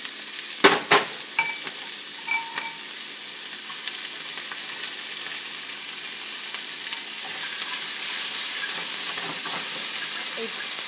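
Chopped Anaheim peppers hit a hot frying pan with a few sharp pops and clatters, then settle into a steady, close sizzle that swells louder toward the end, no voices over it.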